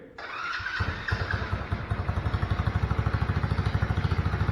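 A swapped-in 125cc engine on a Tao Tao Chinese ATV cranks briefly, catches and settles into a fast, even, close idle chug that grows steadily louder, no talk.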